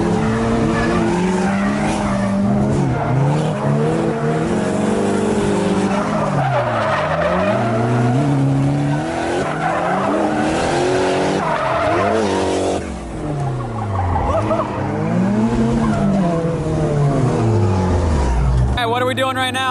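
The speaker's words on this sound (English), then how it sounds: "we're having these guys drift around the course at the very end" Cars drift around a course at the Fricken Heck Bash 2020 drift event, continuous loud tire squeal with sweeping pitch and engine revving throughout, dense and close.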